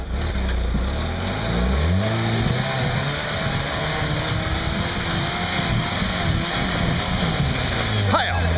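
Vehicle engine held at full throttle in a higher gear, a steady loud roar with rising harmonics at the start, continuing throughout with people talking over it and a brief sharp whoosh near the end.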